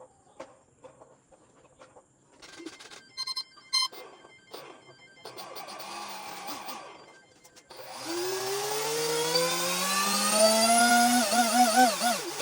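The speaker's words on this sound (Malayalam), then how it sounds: "ഇനി നമുക്ക് പ്രൊപ്പല്ലർ ഇട്ട് നോക്കാം. എന്താ അവസ്ഥ, ഫുൾ കറങ്ങുന്നുണ്ടോ എന്നൊക്കെ നോക്കാം." A small homemade RC aeroplane's propeller motor spins up after quiet handling noises, whirring close and loud with a rising, wavering pitch that holds steady toward the end.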